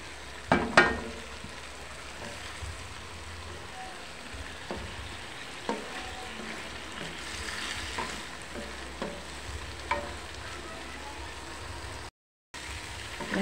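Tomatoes sautéing in a pan, a steady soft sizzle with occasional stirring clatters and scrapes of a utensil, close and fairly quiet throughout.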